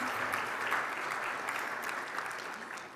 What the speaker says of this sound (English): You can give a clap